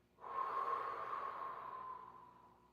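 A single long, soft exhale during a stretching session, starting abruptly and fading slowly over about two seconds, close and fairly quiet with a breathy hiss.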